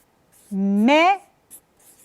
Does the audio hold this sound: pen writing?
yes